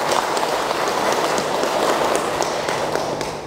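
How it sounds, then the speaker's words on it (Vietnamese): An audience at a Buddhist dharma talk breaks into dense, even applause that fills the room as a steady rain-like patter for a few seconds. "Đúng không nè, vỗ tay cái đi."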